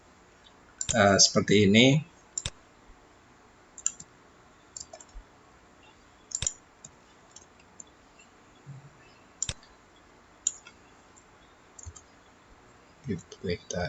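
Sharp, close computer mouse clicks while working in a CodeIgniter code editor, single and spaced irregularly, after a short burst of speech; a voice speaks briefly again at the end.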